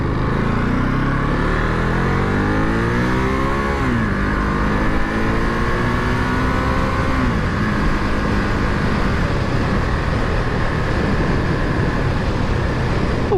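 Ducati Monster motorcycle pulling hard on a motorway in touring mode, the engine note rising through the gears with wind roar loud and constant throughout.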